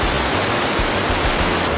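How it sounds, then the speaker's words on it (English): A waterfall roars inside a rock cave at Johnston Canyon in Banff National Park, a loud, dense, unbroken rushing wall of sound close by. "You really get the full impact of facing a waterfall. It's so loud in here."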